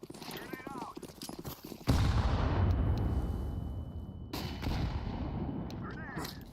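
A sharp, loud blast hits in a video game firefight, followed by a long rumbling decay, then another heavy boom and scattered gunshots, with voices shouting in between.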